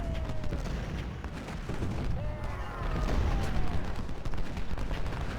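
Artillery and rifle fire from the Civil War strategy game Ultimate General, a steady layered rumble of distant booms and crackling volleys with a few whistling streaks overhead.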